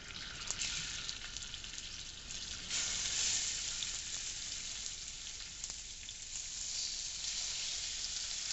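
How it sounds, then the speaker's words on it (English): Pork browning in a tablespoon of oil in a hot cast iron pan, a steady bright sizzle and spatter that holds fairly constant, close and moderately quiet, with no one talking. "I'm heating up my cast iron pan here, and now I'm going to brown the pork"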